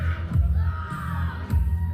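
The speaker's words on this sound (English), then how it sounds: "The crowd is going off." Crowd at a live pro wrestling show roaring and cheering steadily amid heavy pyro, with deep booming thumps near the start and again around the middle over the sustained noise.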